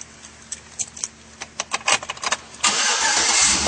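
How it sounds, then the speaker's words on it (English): A 2009 Chevrolet Avalanche starting up: a series of uneven clicks and ticks from the cabin, then the engine catches and settles into a loud, steady idle. "And now we'll start her up."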